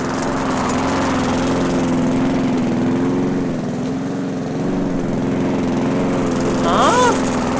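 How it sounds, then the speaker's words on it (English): A lawn mower in an indie video game runs loud and close with a steady, droning engine hum throughout, its pitch wavering slightly, while a voice briefly rises near the end. "Oh, there's a lawnmower."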